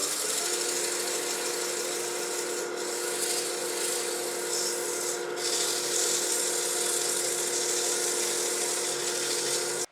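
Coarse-grit sandpaper held by hand rubs a spinning cherry burl bowl on a wood lathe, making a continuous, even rasping hiss with a steady motor hum beneath, close and unbroken.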